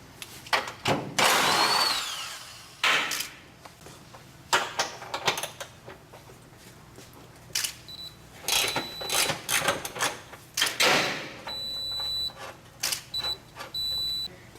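A power tool works loose the K-member bolts on a 2010-2012 Chevy Camaro, with sharp intermittent bursts of whirring and rattling, metallic clanks and pauses between them, close and fairly loud.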